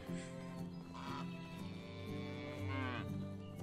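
A cow in the Medieval Dynasty video game gives a long, drawn-out moo, a deep rising-and-falling lowing call that carries on for several seconds.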